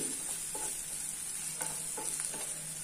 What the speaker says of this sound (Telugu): ఇలా ఫ్రై అయ్యాక ఒకసారి అంతా కూడా మనం కలుపుకోవాలి